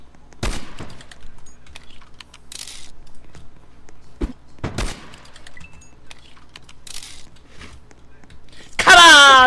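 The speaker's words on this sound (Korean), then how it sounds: "어 드디어 총소리가 들렸다." Gunshots in the Roblox game Korean Murder ring out as a few loud, isolated sharp bangs spaced several seconds apart, followed by a burst of louder noise at the end.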